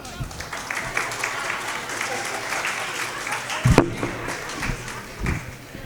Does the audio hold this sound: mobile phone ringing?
no